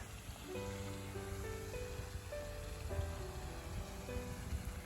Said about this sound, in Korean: 비가 오면서 햇볕이 해가 떴네요